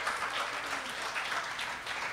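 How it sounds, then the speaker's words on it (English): A church congregation claps hands during a worship sermon, a soft, steady wash of many palms heard at some distance, continuous and even throughout. "Come on, clap your hands to the Lord."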